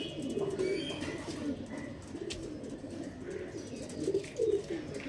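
Old-generation Andhra Madras pigeons coo in soft, repeated throaty bursts close by, with faint chirps and background rustle around them.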